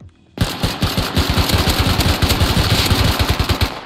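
Rapid automatic gunfire in the Rust video game erupts suddenly after a quiet moment, a loud, close stream of evenly spaced shots that keeps going steadily to the end.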